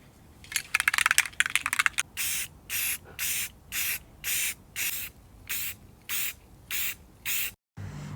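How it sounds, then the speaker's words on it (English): Quick clicking and rattling give way to a series of short, evenly spaced hissing bursts from a spray can spraying purple paint onto 1-inch steel tubes, up close. "I'm about to start spraying that purple."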